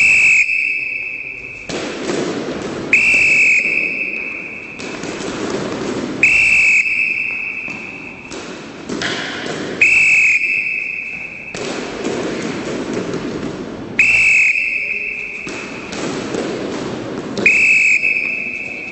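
A referee's shrill whistle blown in repeated short blasts during ball alley handball training, sharp and loud, recurring every few seconds with quieter court noise between.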